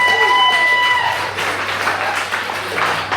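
Scattered audience clapping in a standup comedy club, rising after a brief tonal sound at the start and continuing moderately for a couple of seconds, with some talk mixed in.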